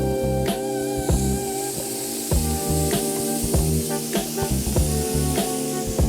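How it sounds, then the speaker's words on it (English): Garlic and holy trinity vegetables sizzling in a skillet for jambalaya, giving a steady broadband hiss with sharp clicks of utensils, heard under a tonal background layer. "we got our garlic in there, so we're gonna put our holy trinity in there"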